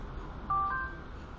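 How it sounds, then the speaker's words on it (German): A short electronic phone notification tone, a brief two-note chime rising over a soft background hum, heard alone without speech. "wie ich das hasse, diese Benachrichtigungen am Telefon"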